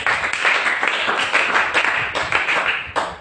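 A church congregation claps together during a sermon, loud, close applause in quick rhythmic bursts that carry on steadily for a few seconds.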